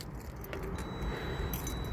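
Work keys jangling in a cold workplace, a brief metallic clinking shaken close to the listener over steady background hum, with no talking.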